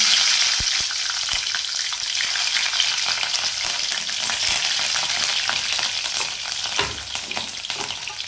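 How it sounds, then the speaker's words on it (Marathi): Cumin, mustard seeds and chillies sizzle in hot oil for upma with a dense, steady crackle and occasional sharp pops and utensil taps, close and fairly loud throughout. "जिरं मोहरी टाकून घेऊया. आता मिरच्या,"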